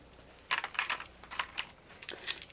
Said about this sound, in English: I'm going to take a razor blade and clean this tube up here just a bit so that it will fit